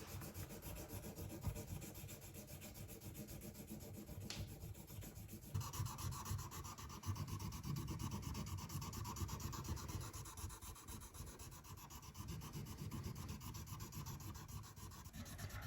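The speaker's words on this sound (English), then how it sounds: "Then I clean up the file marks by sanding." Sandpaper rubs back and forth over a steel hunting knife handle to clean up file marks, giving a steady close scratchy rasp that lasts the whole time without pauses.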